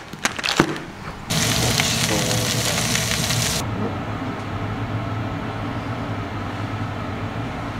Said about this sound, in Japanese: この刺身用のサーモンをカリカリに焼くという贅沢な